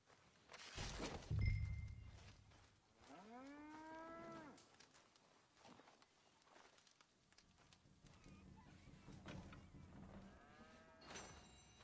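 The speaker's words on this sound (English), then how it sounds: "So we can milk the cow." A cow in the Red Dead Redemption 2 video game lets out a long, clear moo, loud and close. A heavy thump comes just before it and faint ambient game sounds run beneath.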